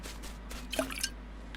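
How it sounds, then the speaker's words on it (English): Water trickles into a container in Stranded Deep as a brief run of soft, close drips and wet splashes over a low steady hum. "that sounded like water going in"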